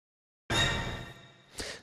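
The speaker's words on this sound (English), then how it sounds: "And the Korg orchestral hit sounds like this." A single orchestral hit sample from a Korg 01/W synthesizer, played through a sample player: a loud, bright, full-band stab with a slightly soft attack that decays over about a second, then a second, shorter hit.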